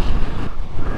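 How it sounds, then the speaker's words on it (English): Strong gusting wind on Ireland's Atlantic coast buffets the microphone with a loud, rumbling roar that surges and dips over a second. "The wind is insane."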